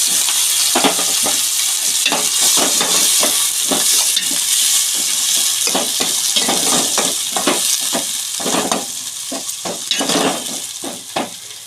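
Chopped onions sizzling in hot oil in a pan, a loud continuous fry with repeated scraping strokes as they are stirred, the sizzle easing slightly near the end.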